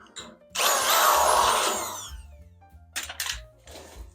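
A power drill bores through a metal go-kart body panel, with one sustained loud whine of about a second and a half followed by a couple of short bursts.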